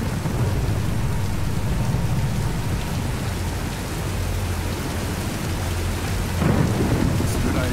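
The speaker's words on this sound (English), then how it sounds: "Nah, let's wait out the storm." A thunderstorm in the Tomb Raider video game, with heavy rain pouring steadily over low rumbling thunder that swells near the end.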